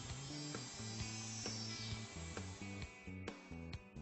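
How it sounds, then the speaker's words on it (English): A router cutting a wooden socket board through a template jig, whining steadily with rhythmic changes in pitch and sharp ticks as it moves in and out of the openings, fairly quiet. "The socket board is routed by moving in and out of the template openings."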